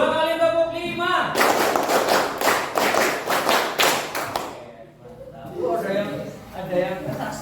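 A classroom of children claps a rhythmic pattern in a concentration game, with about ten sharp, distinct group claps coming in quick succession. A teacher's voice follows once the clapping stops.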